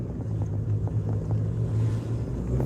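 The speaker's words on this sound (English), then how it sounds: "Every time I come to a stop at a low idle, you hear that rattle even more." A boat motor idles low on a lake with a loose heat shield, a steady deep engine drone carrying a faint, uneven rattle, close and continuous with wind noise.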